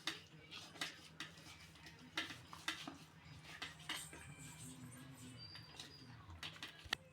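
Fish pieces tossed with masala and cornflour in a bowl give off irregular soft clinks and scrapes against the dish, close and fairly quiet, with a low background hum and no talking.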